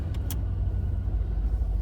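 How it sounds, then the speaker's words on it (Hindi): A Toyota Corolla Grande idles with its engine left running, a steady low rumble close by with a brief higher sound near the start and no talk over it. "गाड़ी स्टार्ट रहने देते हैं।"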